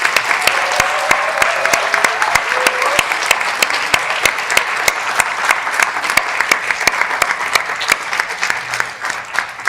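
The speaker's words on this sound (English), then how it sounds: "Let's give a big round of applause to the candidates." Audience applauding candidates at a student festival presidential election debate, steady dense clapping from a large crowd lasting the whole stretch, loud and sustained with sharp individual claps standing out.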